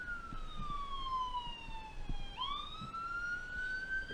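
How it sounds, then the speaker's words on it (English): A police siren wails through a city street in Washington, D.C., heard at a distance through an open window, a long falling tone that abruptly jumps and rises again over faint traffic rumble. "Pardon the sirens if you can hear them."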